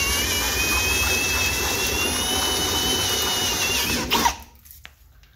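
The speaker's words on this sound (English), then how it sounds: "Sometimes it helps to even speed up the drill bit a little bit." Close, loud drill whine boring a hole through metal for a snorkel on a 60-series Land Cruiser, steady at full speed for about four seconds before it bites through and spins down into quiet.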